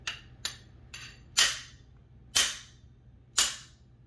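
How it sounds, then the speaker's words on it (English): A brass hammer taps a 1978 Ludwig Speed King drum pedal part six times, three light strikes followed by three harder ones about a second apart, each a sharp metallic tap that fades quickly, close and alone. "We're going to give it a few wraps with a brass hammer here and see if they'll pop out without heating it"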